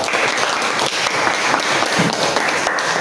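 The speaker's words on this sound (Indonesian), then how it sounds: "Tepuk tangan untuk kelompok 2." Classroom audience applauding a student group after their presentation, a steady, dense wash of clapping that fills the whole stretch at close range without pause.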